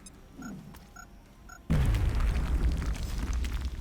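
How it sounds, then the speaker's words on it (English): In the strategy video game XCOM Enemy Within, a grenade detonates with a sudden loud boom and rumbling roar that cuts in after faint interface tones and sustains to the end. "let's worry about the other guy first, who we can soften up with a grenade from Astro Cook"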